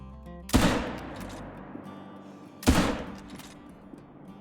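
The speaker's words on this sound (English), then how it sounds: "So let's get the 223 out, and hopefully we can make this shot." Two sharp .223 rifle reports fired at an axis deer in a hunting video game, each a loud crack with a rolling echo tail, spaced about two seconds apart against quiet outdoor ambience.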